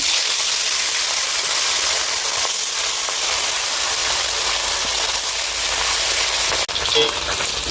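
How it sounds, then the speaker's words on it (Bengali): Silver fish dropped into hot oil sizzle loudly and continuously, a close, dense crackling hiss that holds steady throughout with a small bump near the end. "বন্ধুরা মাছগুলো দিয়ে দেবো। তেল গরম হয়ে গেছে।"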